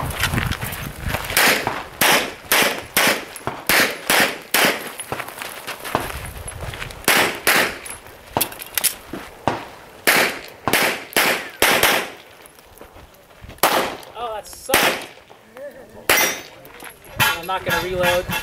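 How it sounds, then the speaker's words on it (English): Rapid gunfire at an IDPA shooting competition: many sharp, loud outdoor shots in quick strings and bursts, some echoing, with brief pauses between strings and faint background voices at the range. "Sounds like you had a real round in there."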